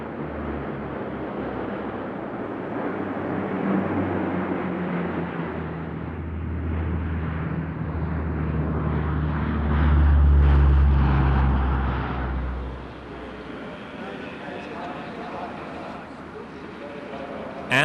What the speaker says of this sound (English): no one had ever thought of putting 8 Hercs in the air all at once